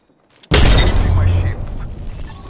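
An Arcstar grenade in Apex Legends bursts in a sudden loud crackling blast that rings out and slowly fades, with voices talking over it.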